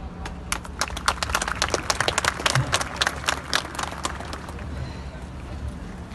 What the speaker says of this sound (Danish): Et stort klap.